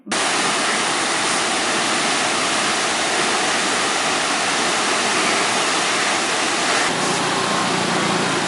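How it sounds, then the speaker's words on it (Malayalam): Strong river current at Kothamangalam rushes in a dense, loud, steady roar like a waterfall, continuous throughout with no voices. "കോതമംഗലം പുഴയിലും കുരൂർ തോട്ടിലും നീരൊഴുക്ക് ശക്തമാണ്"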